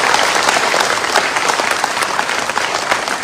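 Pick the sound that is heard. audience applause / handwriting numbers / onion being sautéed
audience applause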